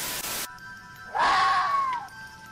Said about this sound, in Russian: Звук брачных криков лисы.